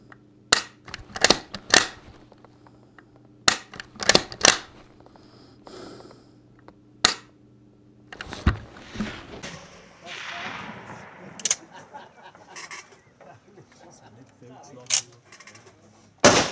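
Sharp, loud cracks from a rifle carried on a side-mounted sling ring out one by one, spaced irregularly, with rustling and handling noise between the shots.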